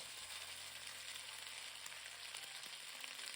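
Vegetables sizzling hot in a pan for Mongolian beef stir-fry, a steady bright crackle with faint scraping, close and continuous with no talking.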